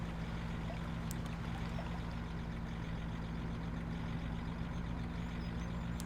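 A steady, constant Land Rover engine drone in Farming Simulator 17, with a low hum that never changes pitch, running evenly without pauses or voices.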